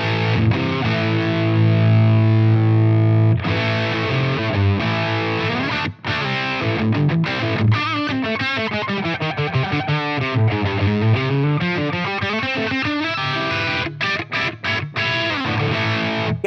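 Electric guitar run through a Flattley Plexstar overdrive pedal, playing gritty sustained chords and riffs, loud and continuous with brief pauses.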